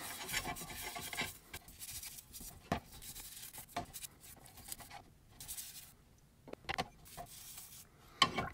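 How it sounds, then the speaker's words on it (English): A metal block plane blade, Samson brand, being lightly scrubbed: soft, irregular rasping strokes with a few sharper scrapes and clicks, close and fairly quiet, no voices. "Let's go for the blade first and just give it just a light scrubbing."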